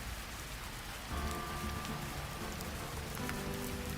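Steady rain patters densely on surfaces, a constant close wash of drops with a faint tonal hum underneath.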